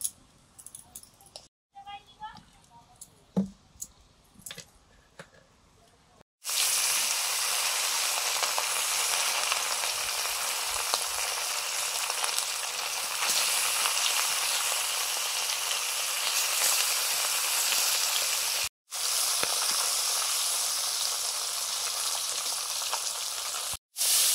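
Rupapatia fish fry in mustard oil in a wok, a loud steady sizzle that starts abruptly after some quieter handling sounds and carries on with brief breaks.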